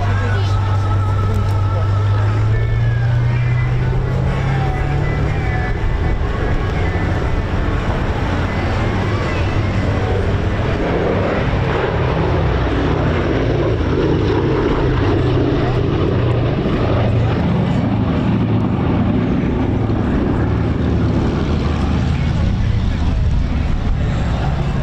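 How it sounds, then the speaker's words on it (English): A Mark 12 Hawker Hurricane warbird's piston engine runs at the Old Buckenham airshow in 2023, a steady low, rumbling drone that shifts slightly in pitch as the aircraft taxis out, with an announcer talking over it throughout. "about to take the historic aircraft collections Mark 12 Hurricane out ready for his display slot"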